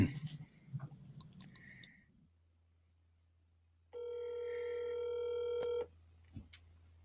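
A telephone call to Dave Ramsey starts with a low hum and faint handling. Then a steady ringback tone sounds for about two seconds, and a few clicks follow.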